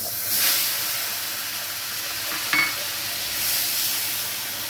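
Onion paste sizzling in hot oil with a few grains of sugar, cooked for pomfret tel jhal: a broad steady hiss that swells at the start, rises again near the end, and carries one brief sharper crackle midway.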